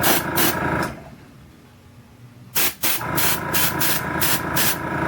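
An aerosol can spray-paints a Superman item in short hissing bursts, several quick puffs then a pause, followed by a longer burst and a rapid run of close, sharp spritzes.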